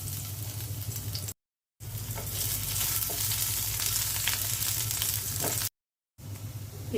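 Chopped garlic and onion fry in a little oil for macaroni, a close, continuous sizzle with occasional stirring scrapes, broken by two brief silent gaps.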